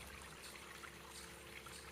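Two split waterfalls spilling into a koi garden pond, a soft steady trickle and splash of water, faint and continuous with no voices.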